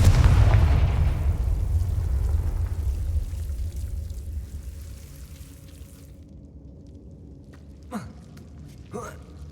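A Confringo fire spell explodes in the Hogwarts Legacy video game, a loud roaring blast that decays over several seconds, followed by two sharp, brief bursts near the end.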